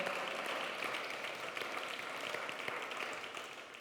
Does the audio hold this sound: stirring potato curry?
no